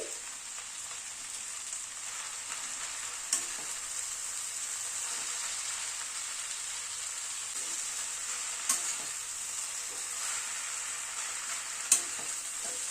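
Spinach being sautéed with spices for dal, a steady faint sizzle with soft stirring scrapes and a few brief clinks, no voices.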